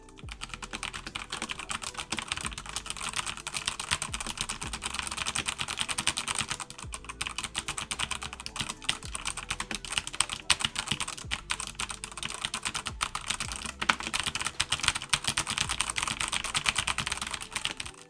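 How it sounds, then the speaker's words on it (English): Rapid, steady clacking of keys on a Redragon K599 DEIMOS wireless mechanical keyboard, continuous and close, with no voices. "a sound test of what the keyboard actually sounds like"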